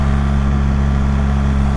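BMW GS motorcycle engine, a 1300GS or 1250GS, running steadily in first gear at about 4,000 rpm and 40 km/h, a loud continuous mid-pitched hum with no breaks.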